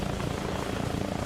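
Steady rumbling vehicle engine noise from a Typhoon vehicle in the Arma Reforger video game, continuous and fairly close with a broad, even drone throughout.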